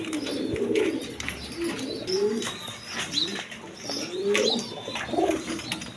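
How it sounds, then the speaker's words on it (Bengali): A pair of Indian Kalpit pigeons coo repeatedly at close range, soft rolling calls overlapping in an irregular rhythm with a few faint chirps behind. "দর্শকবৃন্দ এখানে এক পেয়ার কালপিট কবুতর আছে"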